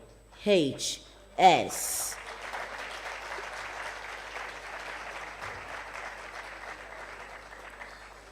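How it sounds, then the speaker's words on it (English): A brief loud vocal cheer opens, then applause from an audience at a clean-air event in Abuja settles into a steady, moderately faint patter of many hands that continues to the end. "give such a loud round of applause to IHS"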